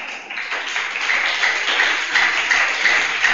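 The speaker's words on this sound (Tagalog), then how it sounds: "Mahina ang palakpak." Light, thin applause from an audience, a soft, sparse patter of hands that stays fairly even and subdued throughout, without any talking over it.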